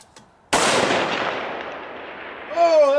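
A rifle shot fired with an Athlon Cronos BTR Gen2 scope at an outdoor shooting range cracks sharply once, loud and close, then rings out in a long decaying echo before other noise follows.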